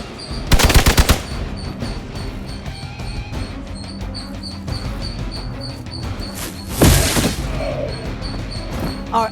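Rapid video-game gunfire in Marvel's Midnight Suns. Two loud automatic bursts come about six seconds apart, over a continuous layer of game sound effects and faint background music.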